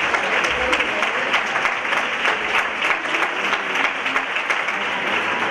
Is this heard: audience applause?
yes